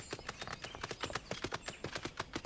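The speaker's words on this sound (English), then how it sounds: "Somebody's riding a horse." Horse hooves clip-clop in Final Fantasy XIV: Stormblood on PS4 Pro, a steady, fairly quick trot of crisp hoof strikes heard alone at moderate volume with no talking.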